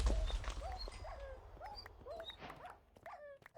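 Several dogs in a video game give repeated short yips and whimpering barks, close and fairly clear, over low background game sound.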